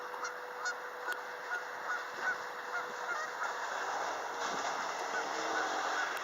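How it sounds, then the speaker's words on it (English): Geese honk repeatedly in the distance outdoors in Calgary, faint calls scattered over a steady wash of wind and background noise. "And I seen geese going on."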